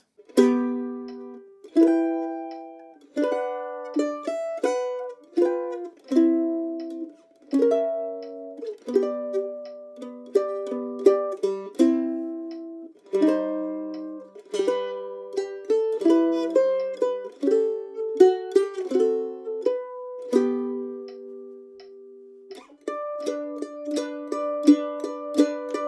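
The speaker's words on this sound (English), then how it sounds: "if you're feeling adventurous, we're going to do a more double stop solo mandolin style arrangement" Solo mandolin playing a double-stop arrangement: plucked paired notes ring out in a slow, lyrical rhythm with decaying attacks, close and clear with no voices for about twenty-five seconds.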